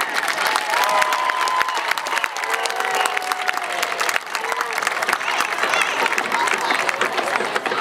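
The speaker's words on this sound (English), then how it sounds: "Let's have a nice round of applause to the parents of the class of 2015." Audience applause with some cheering for the band parents of the class of 2015 at a high school football pregame show, a steady crowd wash that carries on throughout with faint tonal sounds drifting over it.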